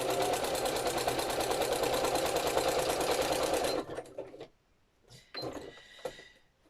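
Sewing machine stitching paper journal ephemera, a fast, loud, steady mechanical chatter for nearly four seconds, then stopping, followed by a few faint handling clicks and short bursts.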